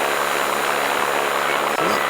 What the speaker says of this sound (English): I just started getting the oddest noise on all channels. It sounds like some sort of insect drone.